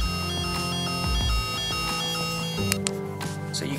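A Lansung three-mode sonic rechargeable electric toothbrush hums with a steady high-pitched buzz that shifts its pattern a couple of times as the modes change, close and continuous with no talking.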